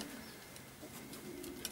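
Racing pigeons softly cooing at their loft, faint and repeated, with a few light clicks and rustles in a quiet outdoor setting.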